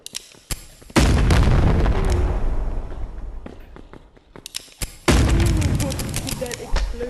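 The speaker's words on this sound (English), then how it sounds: "That explosion." Two heavy video game explosions boom loudly, each followed by a long rumbling decay, with a few sharp pops and gunshot-like cracks between them.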